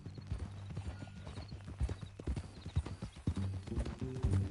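Horse hooves clip-clopping steadily in the western game Red Dead Redemption 2, a close rhythmic trot with a whinny mixed in and low background music.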